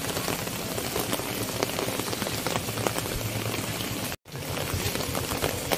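Steady, heavy rain hisses on a surface without letup, a dense wash of drops with a brief dropout near the end.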